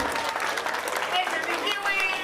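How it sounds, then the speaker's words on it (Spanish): Wedding guests at a reception in La Piedad, Michoacán, Mexico applaud the newlyweds, a dense continuous clapping from the crowd with a voice and music-like sounds blending underneath. "Fuerte los aplausos para los recién casados, hombre, que escuchen bien fuerte los aplausos."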